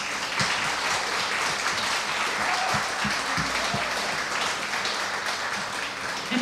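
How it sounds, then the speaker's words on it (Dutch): An audience gives sustained applause for volunteers at the opening of a zero-waste week, a dense, steady wash of clapping lasting several seconds with a few louder individual claps standing out near the front. "geef ze nu alvast een daverend applaus voor al hun inzet"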